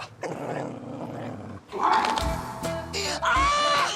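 A street dog growls and snarls in a rough, rising rumble before biting, mixed with voices and commotion nearby, loud and close.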